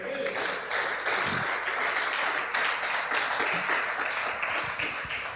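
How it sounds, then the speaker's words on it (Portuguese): A church congregation applauds during a sermon, steady broadband clapping filling the space for several seconds at moderate loudness, with a faint undertone of voices in the crowd. "Vamos aplaudir o Senhor?"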